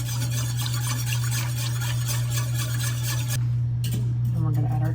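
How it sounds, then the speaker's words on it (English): Chili sauce whisked in a pot for enchiladas rojas, a steady, fast scraping swish of the whisk against metal, close and continuous, under a constant low hum. "So we'll whisk this again."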